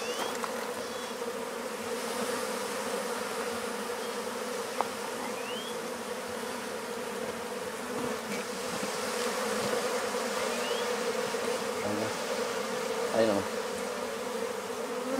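Bees from a huge rescued comb hum steadily, a loud, dense drone close by with occasional individual bees whining past, continuing unbroken throughout.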